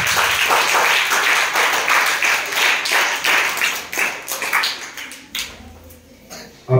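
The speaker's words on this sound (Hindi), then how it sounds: "प्रारंभ करते हैं जोरदार तालियों के साथ।" A classroom of students claps loudly together to open a session, a dense burst of hands that thins into scattered, uneven claps toward the end.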